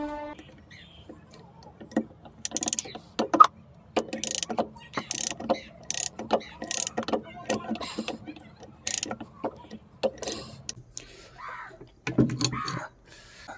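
Ratcheting clicks and metallic tool sounds come from tightening the magnet bolt on a Honda Activa BS6 scooter engine during assembly, arriving as repeated short bursts up close, with faint background noise between them.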